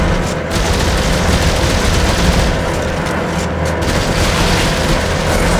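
Rifle fire in the sci-fi horror game Dead Space 3, a loud, continuous, dense barrage of rapid shots and impacts with no break.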